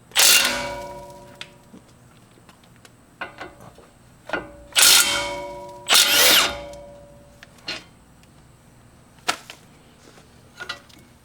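Power tool bursts loosening the 19mm caliper bracket bolts on a 2019 Honda Pilot's brakes, with several short loud whirring spurts separated by pauses, plus a few faint clicks and knocks of handling the parts.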